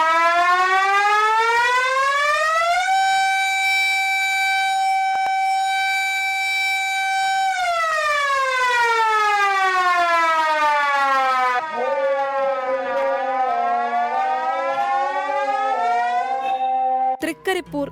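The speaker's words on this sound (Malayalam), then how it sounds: "തൃക്കരിപ്പൂർ ടൗൺ ജുമാ മസ്ജിദിൽ നിന്നാണ് ഈ സൈറൺ" A mosque siren at Thrikkaripur Town Juma Masjid in Kasaragod, installed about fifty years ago, sounds the Ramadan fast-breaking time. It gives a long, loud wail that rises, holds steady, then falls, followed by a second wavering wail near the end.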